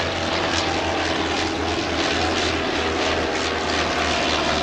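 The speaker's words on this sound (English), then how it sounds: "the ultimate rotary engine fighter aeroplane of the Great War, the Sopwith Camel" A Sopwith Camel biplane from the Great War flies with its rotary engine running, a continuous propeller drone with a rhythmic low pulsing, loud and steady throughout.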